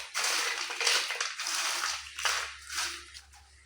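Crisp, cooled namak para snack pieces snapped apart by hand at close range, giving a few bright crunchy cracks and crumbling crackles over about four seconds, with no talking.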